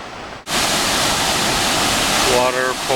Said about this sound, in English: Water pouring through the bottom of the gorge of Moline Canyon.